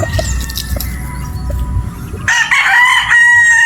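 A gray gamefowl rooster crowing loudly and close at a game farm in Batangas, with a single long crow in the second half over quieter farm background and clucks earlier.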